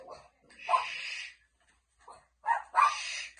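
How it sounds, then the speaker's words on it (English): Dogs bark indoors in two short bursts separated by a pause, the barks fairly near and moderately loud. "Sorry, these fucking dogs, man."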